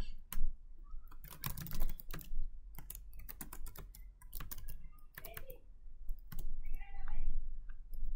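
Keys clattering on a computer keyboard while a command is entered at a Windows command prompt, with close, irregular bursts of clicks and short pauses between them.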